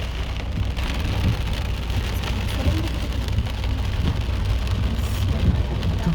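Steady rain falls on surfaces at Rohrbach-Berg, a dense, even hiss of drops with occasional louder patters, close and continuous throughout with no voices.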